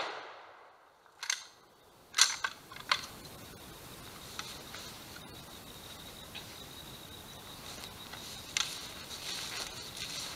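A 12 gauge shotgun firing a Minie ball over a smokeless powder load outdoors: a few sharp, fairly distant reports, one louder crack and lighter pops, with insects chirping steadily in the background.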